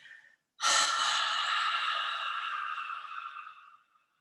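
A long, steady breathing exhale during a trauma-sensitive yoga session, close and airy. It starts abruptly after a short faint breath, holds for about three seconds and slowly fades out.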